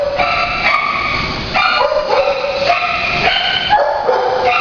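A shelter dog barks and yips repeatedly in quick, uneven bursts, loud and close, with whiny high overtones and a faint rumbling background throughout.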